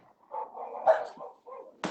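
Dogs bark and whine at a distance, a faint cluster of muffled yips and barks with a sharper one near the end, no talk over them.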